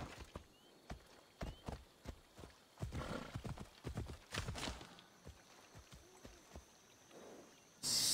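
Horse hooves clip-clop at a walking pace in the video game Assassin's Creed Odyssey, a run of close, fairly distinct hoofbeats with a brief whinny and a sharp noise burst at the very end.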